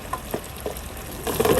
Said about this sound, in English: it's just a lot of lobster to fry